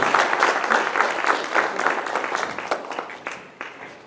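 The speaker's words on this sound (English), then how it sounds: "Give him a round of applause for that" A crowd gives a short round of applause as a high school football head coach is introduced before a Class 4A title game rematch; the clapping is brisk and fairly close, then thins and fades near the end.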